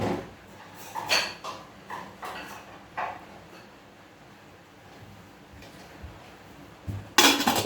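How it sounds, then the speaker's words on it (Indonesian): A metal lid is lifted off a dandang rice steamer pot, giving several light clinks and clanks spread over the clip, ending in a louder metallic clatter. "Jika sudah, ambil tutup dandang."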